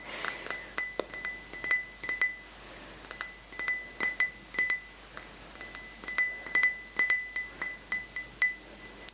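A thick-bottomed drinking glass with a thin rim is tapped and clinked again and again in quick bright bursts. The rhythm is uneven and the ringing is close and clear, with no voice.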